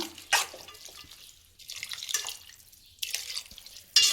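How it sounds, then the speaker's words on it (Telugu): Water poured into a curry pan of sprouted-gram curry, a few short quiet pouring and splashing bursts with pauses between, close by and faint. "ఇప్పుడైతే కొన్ని వాటర్ వేసుకుంటున్నా చూడండి"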